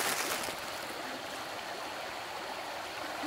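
A stream flows beneath a small bridge made of bamboo poles, giving a steady, fairly soft rush and gurgle of running water with no voices.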